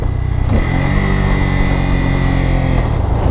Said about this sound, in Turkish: Egzozun, stok egzozun sesi bile çok güzel.